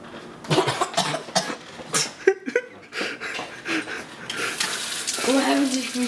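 Several rough coughs and throat-clearing sounds from someone taking the cinnamon challenge, mixed with excited voices, with running water from a sink rising toward the end.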